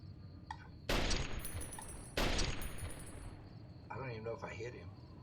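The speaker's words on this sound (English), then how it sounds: "Let's see if I can take him out quicker with this rifle." Two sharp, loud rifle shots from the video game Fallout: New Vegas ring out about a second apart, each followed by a long decaying echo, and someone speaks near the end.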